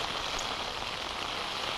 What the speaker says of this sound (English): The rain starts and we all get soaked.